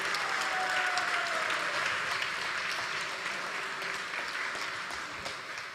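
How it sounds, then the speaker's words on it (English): Sustained audience applause at a Sunday religious program honoring a guest speaker, a dense steady wash of clapping that gradually tapers off slightly toward the end, with no talking over it. "Can we give a bigger round of applause for Prabhu?"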